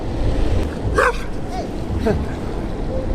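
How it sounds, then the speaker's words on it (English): A dog barks twice, sharp and fairly close, over the steady rumble of an electric skateboard's wheels rolling downhill on pavement. "Dog doesn't like skateboards."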